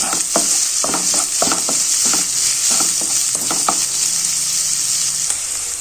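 Green chillies stirred into a sizzling pan for an okra stew, a steady bright frying hiss with irregular scraping knocks of the spoon against the pan, close and continuous, with no talking.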